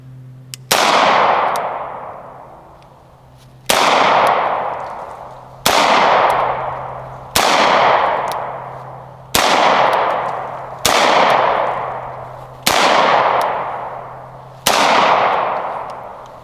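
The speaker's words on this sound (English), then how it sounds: "I had to really extend my finger, and I shot terribly, but the follow-up shots are amazing" Beretta 92X pistol fired at a range: eight sharp, loud shots, each with a ringing decay, spaced roughly one to three seconds apart with a longer pause after the first, and no talking.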